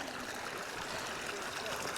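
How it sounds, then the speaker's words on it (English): A small backcountry creek near Terrace, British Columbia, flows in a steady broadband rush and trickle, close by and continuous with no talk over it. "Yeah, just a little creek crossing."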